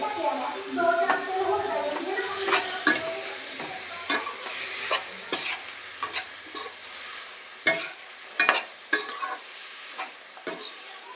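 Chicken coated in ginger-garlic paste is stirred in hot oil, giving a continuous close sizzle broken by repeated scraping clinks of a spoon against the pan.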